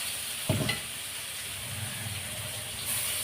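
Cut green chillies hit a pan of sizzling ground paste with a brief loud stir at the start, then a steady close frying hiss continues alone.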